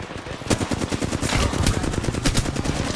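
Rapid bursts of gunfire in the video game Apex Legends, loud and close, with sharp repeated shots and broadband cracks running through the whole stretch and no talk over them.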